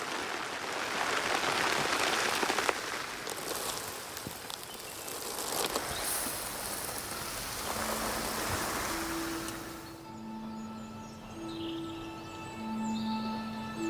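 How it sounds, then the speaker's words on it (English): Short, heavy rain shower pounding down in a harvest mouse's tiny grassland habitat, a dense loud hiss for about ten seconds that eases into softer dripping, with insects and faint tonal calls emerging afterwards. "The short yet heavy rain showers."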